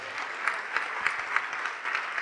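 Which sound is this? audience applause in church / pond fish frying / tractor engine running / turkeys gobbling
audience applause in church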